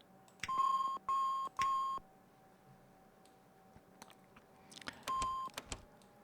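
Saab 340 cockpit alarms in the X-Plane 12 flight simulator sound as steady electronic tones in short repeated bursts over a faint hum, followed by a few clicks and one more tone, all quiet and with no talk.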